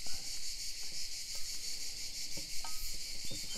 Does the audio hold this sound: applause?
no